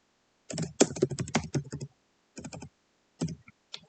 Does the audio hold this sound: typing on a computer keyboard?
yes